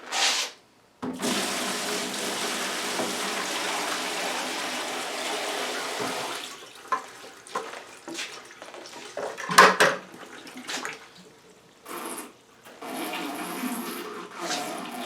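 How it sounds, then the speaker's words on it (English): Water draining from an auxiliary bucket back into a main parts-washing bucket, a steady trickling rush for several seconds that stops, then returns in intermittent splashes and gurgles. "It's draining out the drain back into my main bucket."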